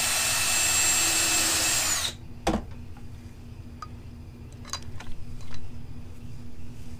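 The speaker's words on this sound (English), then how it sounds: "So we're going to do a little countersink hole." A power drill bores a small countersink hole to seat an earth magnet, with a steady, loud whine for about two seconds before it cuts off, followed by a sharp thump and a few light clicks in a quiet room.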